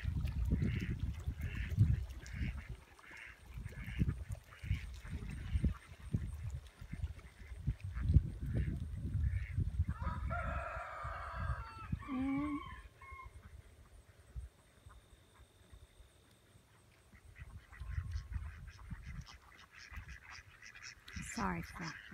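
Farmyard ducks and geese by low water honk and quack in scattered bursts, with a louder run of goose calls midway, over intermittent low rumbling handling noise and occasional voices nearby.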